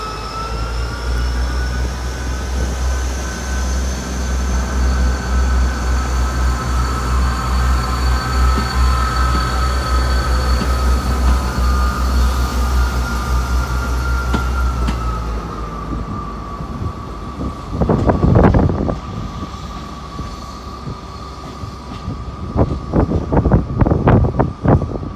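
A Castle set passenger train departs Exeter St Davids with a loud, steady diesel engine drone and a high whine. The drone fades, then wheels clack and squeal nearby at the end.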